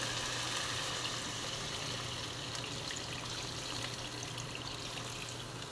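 Water splashes and trickles steadily into a cooking pot with chicken, a continuous close pouring sound without any talking.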